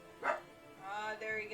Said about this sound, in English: he's also barking, like Sid's also barking from the taps too,